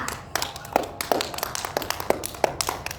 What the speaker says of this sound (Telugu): అందరూ ఖుషికి ఇప్పుడు క్లాప్ కొట్టాలి గట్టిగా